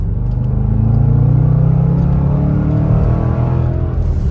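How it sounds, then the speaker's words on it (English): A Range Rover Sport SVR's engine at full throttle on a neighborhood road, a loud deep rumbling roar that swells and holds steady from inside the cabin. "Let's go ahead and give it full throttle"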